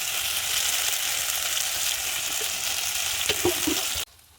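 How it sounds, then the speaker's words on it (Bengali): A spice paste of soybean, onion, garlic, ginger, tomato, chilli and curd fries in a pan with a loud, steady sizzle and a few stirring scrapes, close and without talk, cutting off abruptly near the end. "এই যে দই দিয়ে দিলাম মশলাটা। আর মশলাটাকে ভাজবে।"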